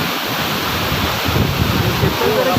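A scenic waterfall near Arale village rushes in a steady, loud broadband roar, close by and continuous, with faint voices mixed in under the wash of falling water.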